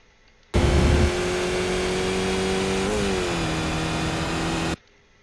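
A Skip Barber race car engine at Road America in the iRacing sim drones loud and steady at high revs, pitch shifting briefly midway as if through a gear change, then cutting off abruptly.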